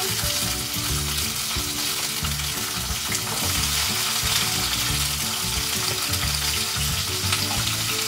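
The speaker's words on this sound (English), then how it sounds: "And you're gonna hear it sizzling." Tomatillos and serrano pepper sizzle loudly and steadily in hot oil, a dense continuous crackling hiss with some stirring, close and uninterrupted.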